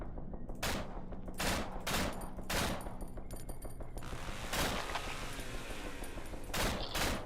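Rapid bursts of gunfire from enemy gunners in a video game, loud sharp volleys and repeated shots clustered in several bursts, with no speech.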